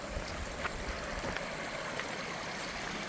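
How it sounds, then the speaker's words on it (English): A stream cascades down a picturesque ravine in Pennsylvania's Blue Mountains, giving a steady broadband rush with small gurgles. The sound is moderately close and carries on without any voices. "Look at those cascades up ahead."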